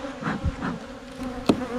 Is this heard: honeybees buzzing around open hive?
yes